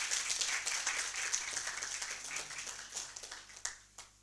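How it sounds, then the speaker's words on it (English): A Rotary Club audience in Arua claps hands in appreciation during a live-streamed event, with dense, steady applause that gradually thins into scattered individual claps toward the end. "Let us appreciate them by a clap of hands."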